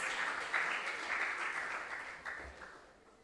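Applause for contestants at a junior science and maths quiz regional qualifier in the Ashanti Region, a brief round of moderate clapping from the audience that gradually fades out over a few seconds.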